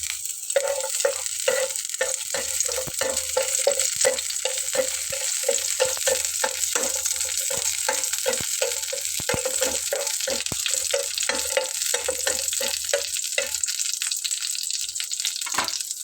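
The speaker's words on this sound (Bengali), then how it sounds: "রসুনটা ভাজি হচ্ছে" Garlic cloves frying in mustard oil, a steady dense sizzle with crackling pops throughout, close and even in loudness, no talking.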